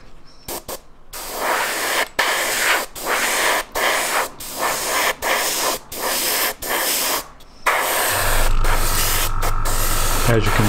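A paint sprayer loaded with thickened, partly gone-off paint struggles and spits on a Wingnut Wings Junkers D.1 model aircraft, firing a series of short, uneven hissing bursts with brief gaps between them, followed by a steadier, rougher hiss.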